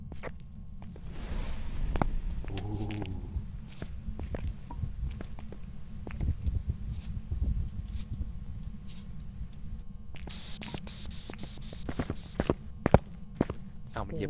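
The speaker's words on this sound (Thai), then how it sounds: "ได้เสียงเท้าเบามากเลยนะแทบจะไม่ได้ยินเลย" Soft, rapid footsteps in the video game Phasmophobia, a steady run of light steps under low background rumble and occasional sharp game sounds.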